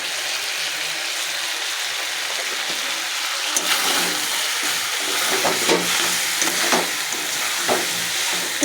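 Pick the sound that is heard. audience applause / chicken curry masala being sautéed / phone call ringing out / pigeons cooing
chicken curry masala being sautéed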